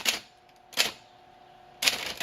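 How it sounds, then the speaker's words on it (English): A Royal Academy manual typewriter clacks out four sharp keystrokes in uneven bursts, two early and two close together at the end, with a faint ringing tone between strikes in a quiet room. "I've completed the repairs on my Royal Academy typewriter."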